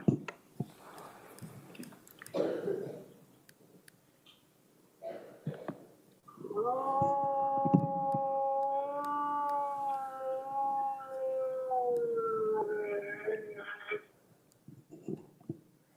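A dog's drawn-out, wavering howl comes through a played-back 911 call recording, rising and falling for several seconds amid muffled room noise and clicks, with brief quiet stretches before and after.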